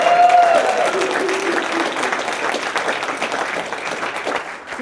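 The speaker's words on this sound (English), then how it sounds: "Applaud yourselves." A district training crowd of club members bursts into sustained applause, a dense, steady wash of many hands clapping that slowly fades toward the end.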